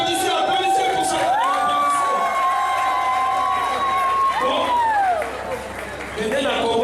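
A lively crowd cheers loudly, with long drawn-out shouts and whoops rising above a busy mass of voices, and speech carrying on throughout.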